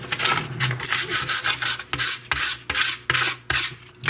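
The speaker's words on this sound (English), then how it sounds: "What I want to do is maybe try to sand it." Tough adhesive bonded to a concrete floor is sanded by hand in short, repeated abrasive rubbing strokes, close and loud, with brief pauses between passes.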